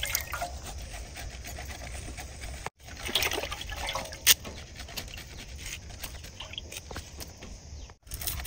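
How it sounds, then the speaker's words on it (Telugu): Water is poured into a pot of lentils with fenugreek, cumin and garlic for tamarind-leaf dal, an uneven splashing and gurgling broken by a couple of brief pauses, with no talk. "వాటర్ కూడా పోసుకున్నాం"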